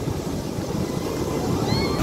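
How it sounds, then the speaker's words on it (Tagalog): Strong sea waves crash and churn at a beach in Ilocos, a loud continuous roar of surf close by with wind on the microphone and a faint voice near the end. "Lakas ng alon."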